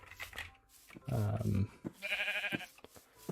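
A sheep in Minecraft lets out two bleats, a lower wavering call followed by a higher, brighter one, standing clearly over a quiet background with faint rustling at the edges.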